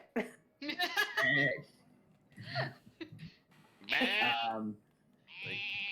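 A human voice imitates a goat under attack with strained, wavering bleats, two to three bursts spread across the clip, the last a sustained nasal "meh", mixed with other vocal noises.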